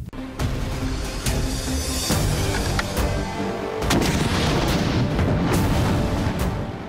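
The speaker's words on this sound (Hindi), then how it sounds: "ये जो अभी आपने जिससे फायर किया है, हम लोग तो उसको रॉकेट लॉन्चर कहते हैं" An RPG-7 rocket launcher fires at a military training range, a loud booming blast followed by heavy rumbling echoes, with further sharp bangs and crackling reports rolling on through the whole stretch.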